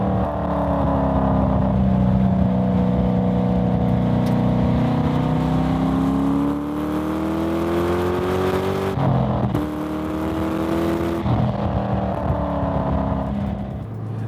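A deep, throaty V8 engine in a Mazda MX-5 Miata (ND) revs and climbs in pitch, drops off, then roars up again, loud and close with no talking.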